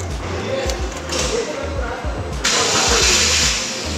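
A 2023 Daihatsu Sigra 1.0 manual hatchback's engine cranks and catches, then settles into a steady, close idle with a louder, brighter surge near the end.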